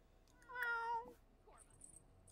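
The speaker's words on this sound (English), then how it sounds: "I heard a cat." A cat in the video game The Sims 4 gives one clear meow, close and moderately loud, followed by faint game sounds.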